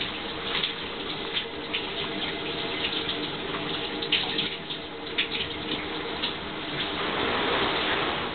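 Shower water runs steadily in a home bathroom, a continuous close hiss and spatter of spray that holds at an even level throughout.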